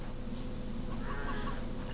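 Chickens clucking in the video game CHKN, steady game ambience with a few short fowl-like calls scattered through the middle and end, no talk.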